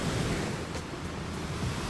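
Ocean waves roll at Serang Beach in Blitar during a fishing festival, a steady broad wash of surf mixed with wind rumble and no clear breaks.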